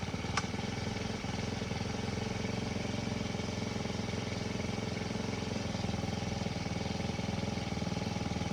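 Freshly repaired tiller engine running with choke on and throttle applied, a steady, close, buzzing small-engine drone with a rapid pulsing firing rhythm that holds even throughout, no voices over it.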